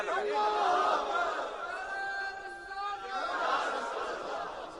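A crowd at a naat gathering in Holland chants religious slogans together, a massed, voice-heavy roar rising and falling in waves over about five seconds.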